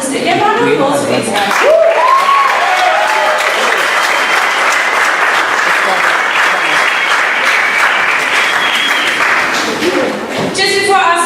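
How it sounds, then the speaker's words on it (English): Sustained audience applause on stage fills nearly ten seconds, dense and steady from start to finish, with voices briefly speaking before and after. "Yeah, round of applause, please."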